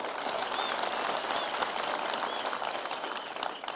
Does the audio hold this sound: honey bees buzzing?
no